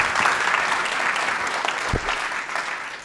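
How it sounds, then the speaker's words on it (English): Audience applause at a hackathon event: steady clapping from a crowd, fairly close and dense, sustained throughout without speech over it. "how about then one more round of applause for Ibby Benali"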